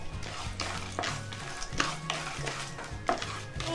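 Chana dal and peanuts stirred in a pan for lemon rice: a spoon scrapes and taps against the metal in irregular strokes over a faint sizzle, fairly quiet and close, without speech.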